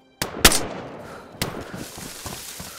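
Gunshots in DayZ: two sharp, loud reports in quick succession, then another a second later, each trailing into a long echoing decay over outdoor ambience.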